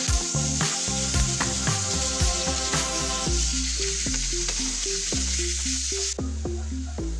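Green papaya pieces cook in a hot pan for ginataang papaya, a continuous loud sizzle with scraping stirs throughout, and a tonal hum runs under it.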